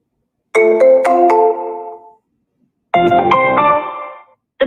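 A phone rings through a power dialer during cold calling, sounding as two loud close electronic ring bursts with a pause between and a third just beginning, no talking.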